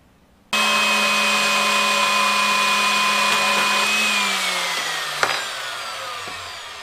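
A power saw cuts a part to length for an electric fan conversion on a Honda CX500 tracker motorcycle, starting abruptly into a loud, steady whine that slowly drops in pitch as it bogs and winds down, with one sharp click near the end.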